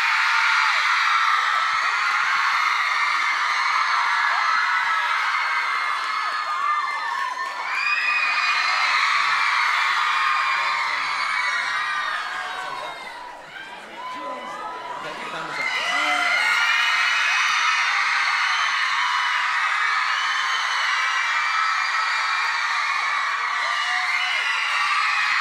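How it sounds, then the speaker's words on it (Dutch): A studio audience at the RTL Late Night show erupts for One Direction, a dense, loud wall of screaming, whooping and cheering that dips briefly midway before surging back to full intensity. "Een groot applaus voor One Direction!"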